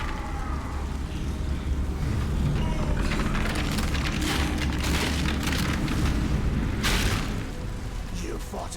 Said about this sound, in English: Watch him explode.